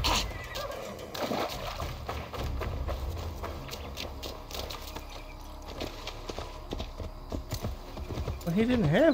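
Steady clip-clop of horse hooves at a walking pace in Assassin's Creed Valhalla, with a horse whinnying near the end while people talk over it.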